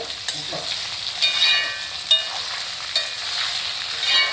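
Bird's eye chilies fry in hot oil with browned garlic for a chili pickle, a steady sizzle broken by several sharp scrapes and clinks of stirring; no one speaks.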